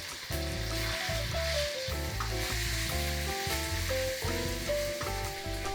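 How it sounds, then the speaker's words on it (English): Marinated pork strips stir-fry in hot oil in a wok, a loud steady sizzle running throughout with scraping and stirring clatter over a low droning hum. "Adding the marinated pork, stir fry the pork strips until color changes."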